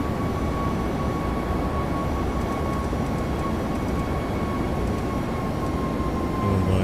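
A Boeing 757 in the Prepar3D flight simulator rolls for takeoff with a loud, steady engine roar and a constant tonal whine, holding even and unbroken for the whole stretch.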